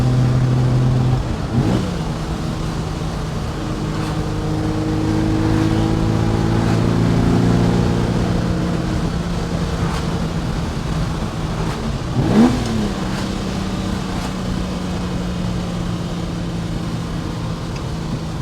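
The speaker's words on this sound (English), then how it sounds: "we're going to show you how she cruises at speed in a nice straight line" A 1969 Ferrari 365 GTC cruises at speed along a straight farm road, its engine droning steadily and loudly from inside the cabin, with a couple of brief shifts in pitch and no talking.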